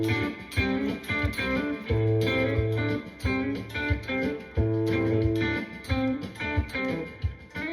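A guitar fingerpicked by a player with Parkinson's disease plays a melodic figure of plucked notes and short phrases, close and clear, with no talking.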